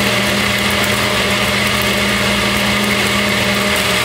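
A blender crushes ice and chocolate for an M&M frappé, running continuously at full power, a dense steady motor roar with gritty grinding, close and loud throughout.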